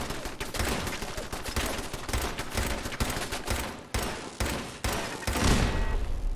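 Turret fire in Fallout 4 sounds as rapid, loud, sustained bursts of automatic gunfire with brief pauses between volleys, close and unrelenting.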